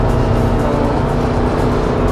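A 2006 Chrysler Voyager with a CRD diesel engine accelerates hard on the road, a loud, steady engine roar mixed with road and wind noise filling the cabin, with no speech.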